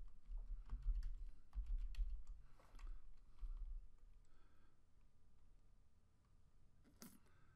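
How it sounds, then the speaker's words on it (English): Slow, uneven typing on a computer keyboard, with scattered soft key clicks and pauses between strokes, heard up close in a quiet room. "I usually don't type this slow, but I will vouch that I'm a slow typist"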